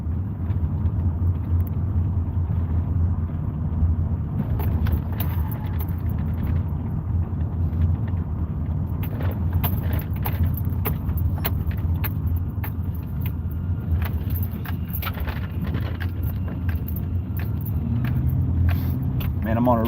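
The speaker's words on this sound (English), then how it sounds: "Man, I'm on a really bumpy road here." A car rolls over a really bumpy road with a constant low rumble and engine drone, while loose keys jangle and rattle with the jolts throughout.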